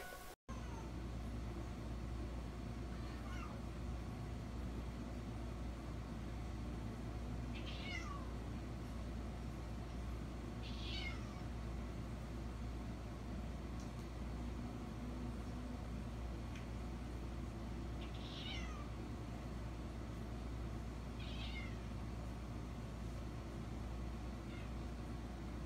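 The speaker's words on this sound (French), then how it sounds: "c'est quand il regarde son maître qu'il miaule" A cat meows several times at even intervals, a few clear rising cries spread across a steady background hum with no one talking.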